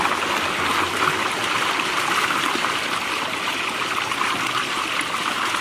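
Surface water of a stream flows in a steady, unbroken rush and trickle, fairly loud and close, with no voices over it.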